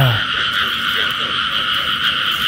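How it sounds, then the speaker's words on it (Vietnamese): Frogs croak steadily in a rice field at night, a dense, continuous nearby chorus with no talking. "Con này quạch quạch quạch quạch, con ếch."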